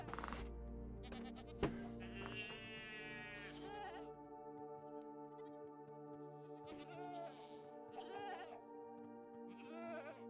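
A goat in the Minecraft video game bleats repeatedly in long wavering calls over a steady background music tone, with several bleats close together and no talking.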